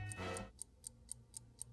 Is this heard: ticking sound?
yes